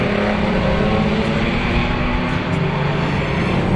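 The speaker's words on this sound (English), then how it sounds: "Those of you who regularly attend vintage races will know the Cooper Bristol Mark I of Edward Cotton" Cooper Bristol Mark I vintage race car on a circuit at a VSCC spring race meeting, its engine a steady, loud, dense roar throughout, close to the listener with no voices.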